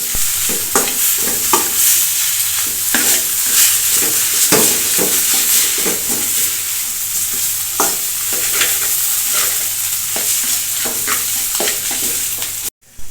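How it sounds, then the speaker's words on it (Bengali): Noodles fry in a hot wok with a loud, continuous sizzle while a utensil stirs and scrapes them in repeated strokes. No one speaks. "নুডলসের সাথে আপনি লাড়া দিবেন"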